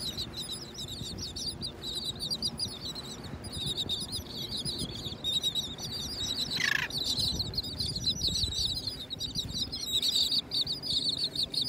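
Birds call continuously on a North Naples, Florida beach by a sandbar, with many high chirps and squawks at moderate distance over a steady wash of surf and wind.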